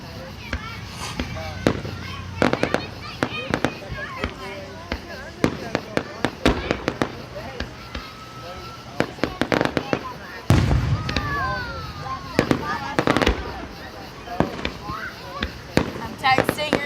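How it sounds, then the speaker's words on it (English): Fireworks at a 2013 display in Maumelle crackle and pop repeatedly, with several louder booms, while people chat nearby almost throughout. "I can watch the fireworks anytime."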